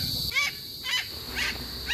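Four loud, harsh squawking calls from a Moluccan cockatoo, spaced about half a second apart, each rising and falling with a raspy, nasal tone.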